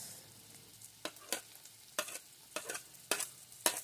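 Onion sautéing in a pan for beef caldereta: a faint background sizzle with a run of sharp spatula scrapes that come in quick pairs and clusters. No voice is heard.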